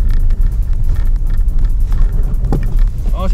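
Steady engine drone of a car accelerating on a snowy road, loud and continuous throughout, with a person talking over it.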